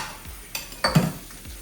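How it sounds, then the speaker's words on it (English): Dishes being washed in a home kitchen after baking: a few quick clinks and knocks of cutlery and pots against a sink, close and fairly loud, with no talking. "we'll clean up and clean our dishes"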